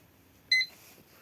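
A repaired air fryer gives one short electronic beep as it powers on, a clear two-tone chirp standing out against a quiet room.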